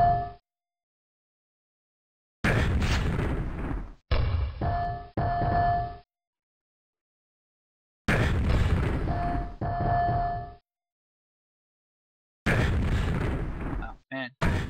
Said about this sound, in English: Now here's the grenade launcher. So the grenade launcher, you get 2 rounds.